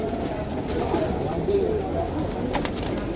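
Young pigeons cooing at close range in a Mumbai loft, soft low burbling calls under someone talking steadily throughout.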